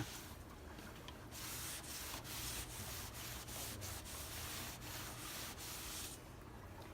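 A rag rubs across a freshly washed car's painted surface in steady back-and-forth strokes, close and fairly quiet, with no talking.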